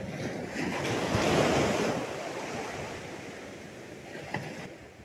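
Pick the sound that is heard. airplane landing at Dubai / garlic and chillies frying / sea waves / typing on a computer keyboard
sea waves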